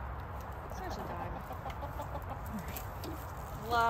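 Chickens cluck softly in the background amid outdoor ambience, with a brief louder squawk near the end.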